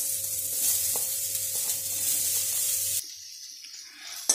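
Ginger, garlic and onion sizzle steadily in hot oil in a pan for Hakka noodles, a continuous close frying hiss that suddenly drops quieter partway through, with a small clatter at the end.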